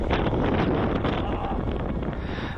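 Strong wind buffets a microphone during a mountain storm in the Alps on a ski touring trip, a loud, continuous roar and rumble throughout.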